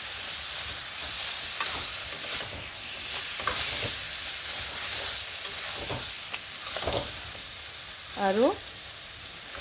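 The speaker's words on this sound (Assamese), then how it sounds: "মই কচুখিনি ভাজি ল'ম" Taro (kochu) frying in a pan with a little sugar, giving a steady close sizzle with scraping stir strokes and a short whistle-like tone near the end. A single word is briefly spoken over it.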